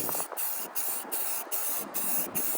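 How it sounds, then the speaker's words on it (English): A spray can lays primer on the cowling of a Yamaha F25 outboard in about six short, even hissing bursts separated by brief pauses, quiet and close. "I'm gonna douse this with a couple coats of primer is what I'm gonna do,"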